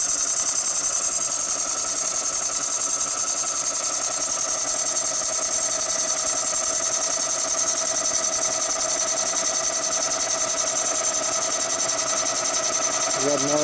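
A Kwik-Way boring machine cuts a brazed 1948-65 Harley panhead cylinder bore, giving a steady, loud metallic whine and machine drone that runs continuously throughout.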